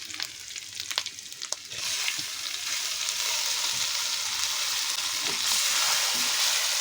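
Moong dal frying with dried chillies and ginger in a pan, a few clinks of stirring early, then a hiss that swells into a loud continuous sizzle and grows stronger near the end.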